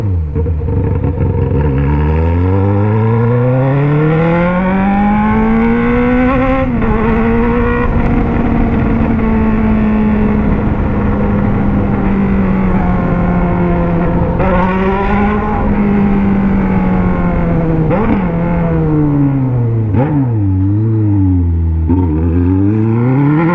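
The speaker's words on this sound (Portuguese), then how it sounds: "pelo menos pra mim que tô aqui escutando o barulho da moto ao vivo" Honda Hornet motorcycle engine revving while riding, loud and close, with a steady droning pitch that rises, holds, then dips and surges again with gear changes.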